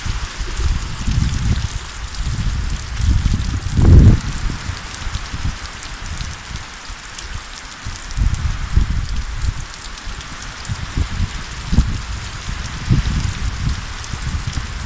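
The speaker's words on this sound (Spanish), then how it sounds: "¡Qué manera de llover" Heavy rain pours steadily throughout, a dense wash of drops drumming on surfaces with a few louder surges of water, close and continuous with no talking.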